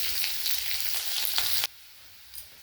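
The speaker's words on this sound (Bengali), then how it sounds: "পেঁয়াজটা ভেজে নেব।" Onions sizzle steadily in hot oil for a bit over a second and a half, then the frying noise cuts off abruptly, leaving near silence with one faint clink near the end.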